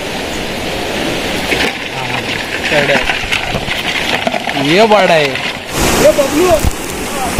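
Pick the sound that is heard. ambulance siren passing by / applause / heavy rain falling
heavy rain falling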